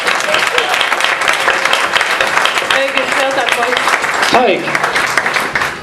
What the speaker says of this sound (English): So I think you deserve a round of applause.